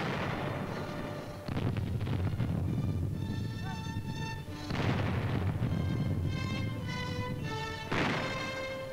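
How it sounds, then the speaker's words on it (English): Heavy naval guns of a 1944 World War II invasion fleet bombarding shore defenses in southern France boom in repeated thundering bursts, deep rolling blasts that overlap and echo, loud and continuous across the stretch. "big guns of this international navy thundered bombardment against shore defenses"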